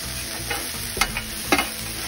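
Onions sizzle on a heated Blackstone griddle for smash burgers, with a steady broadband hiss and a few louder crackles and spatula scrapes. The sound is close and continuous, with no talking.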